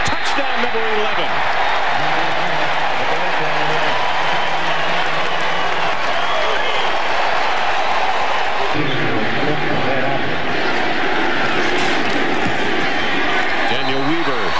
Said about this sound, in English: Crowd coming to their feet across the way.